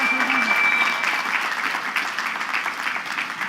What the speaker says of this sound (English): So let's give a big round of applause to our Chief Marshal.